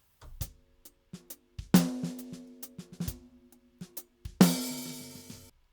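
A snare drum track with an unwanted extra sound: sparse snare hits ring out with a few louder, sustained crashes and faint rumbling thuds between them, no one speaking.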